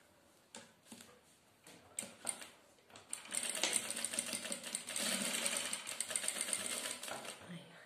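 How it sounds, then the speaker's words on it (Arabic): A sewing machine stitching elastic onto fabric from an old gandoura: a few scattered clicks first, then a continuous rapid mechanical whirr and clatter that runs steadily through the second half, fairly close. "نخيطها بهذه الطريقه، نبديو هنا، نبديو على بركه الله"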